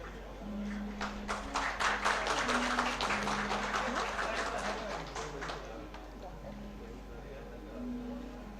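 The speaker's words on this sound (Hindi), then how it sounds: "जोरदार तालियों के साथ में यहाँ पर सम्मानित उनको किया जाए" An audience at a police bravery awards ceremony gives loud applause, a burst of rapid clapping that peaks early and fades away after a few seconds, leaving a low steady hum.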